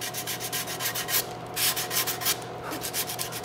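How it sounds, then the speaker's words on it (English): Steady back-and-forth rubbing of sandpaper on a wooden colonial gun stock, by hand, close by, in quick rhythmic strokes with no talking. "sand with the axis of the wrist"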